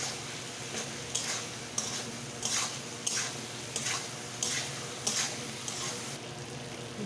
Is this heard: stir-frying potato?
yes